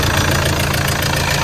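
A 1KD diesel in a Toyota Land Cruiser Prado J90 runs with engine blowby, giving a loud, steady idling clatter with a dense mechanical rattle and no speech.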